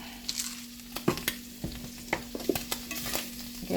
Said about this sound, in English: You can hear them sizzling now.